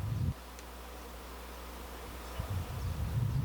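Honeybees swarm around a beekeeper's hive on a mountainside, a faint steady buzzing hum with low droning wingbeats, briefly louder at the start and toward the end, with no talking.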